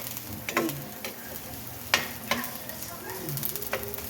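Onions and garlic frying in a pan for milkfish sarciado, a quiet continuous sizzle with occasional sharp clicks and scrapes of a utensil against the pan.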